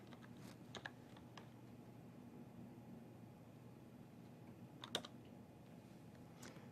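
A partition name being typed on a computer keyboard: a few sparse, quiet key clicks in short clusters, including one slightly louder tap, over a soft background hiss.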